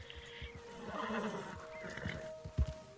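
A horse in the Red Dead Redemption 2 video game neighs in a drawn-out whinny, followed by a few clip-clop hoof steps, fairly close and moderately loud.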